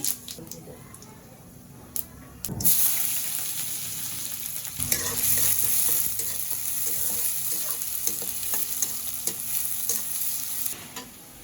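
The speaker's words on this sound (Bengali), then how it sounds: "এখন মাংস রান্না শুরু হইতেছে" Steady sizzling of meat and onions frying in a hot pan, with occasional stirring scrapes and clinks throughout.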